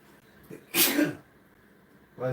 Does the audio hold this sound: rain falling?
no